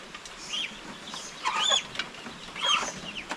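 Several ducklings kept together in a cage, giving high thin peeping chirps in short scattered bursts, with a couple of louder calls standing out against a soft background of steady peeps.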